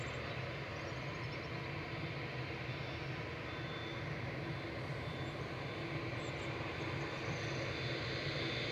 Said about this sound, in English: A7BHC heading back to Doha, 787-9 Dreamliner